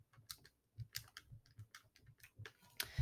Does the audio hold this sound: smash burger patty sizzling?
no